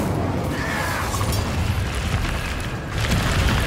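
Incendio fire spell cast in the Hogwarts Legacy video game, a dense roaring whoosh of flame with booming rumble that continues throughout at high, fairly even loudness.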